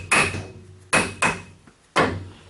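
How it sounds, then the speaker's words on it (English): A hammer taps a rear pinion seal back into place on a GM Chevy 2500 HD. Four sharp, ringing strikes land at uneven intervals, each decaying quickly, with nothing else in between. "Now I got the hammer, and I'll get her back on there."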